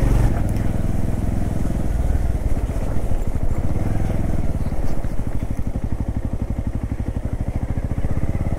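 A motorcycle rides through a mud-choked road in North Sikkim, its mud-clogged chain grinding and clattering under a steady, close engine drone with a fast rhythmic rattle that continues throughout.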